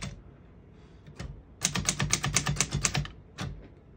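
Typing on a 1956 Underwood Universal portable typewriter: a few scattered keystrokes, then a quick run of crisp, close clacking strikes, then a last couple of taps.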